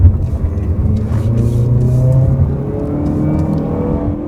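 A 2020 Mazda CX-30 under full throttle, its engine note climbing steadily in pitch as the car accelerates, heard from inside the cabin, loud and continuous with no talking.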